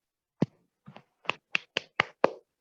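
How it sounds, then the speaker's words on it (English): Seven separate hand claps sound one after another, crisp and close, with short uneven pauses between them and no talking. "Clap for yourself."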